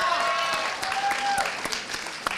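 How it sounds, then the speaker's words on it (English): Steady applause from a conference audience, a dense wash of clapping with a few sharper claps, while a voice speaks over it. "Give him a round of applause, come on."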